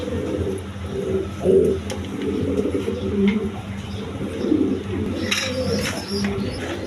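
Pigeons at a busy wholesale pigeon market coo steadily and repeatedly in low, throaty calls, with crowd chatter and a few sharper bird notes mixed in throughout.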